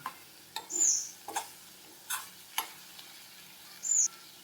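Sweet kova mixture being cooked down in a pan, heard as sparse spatula scrapes and taps every half second or so over a quiet background, with two short high chirps also present and no talking.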